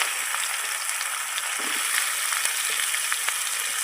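Chopped onions sizzling in hot oil in a pan with bay leaves, whole garam masala and cumin, a steady, close frying hiss with occasional light stirring scrapes.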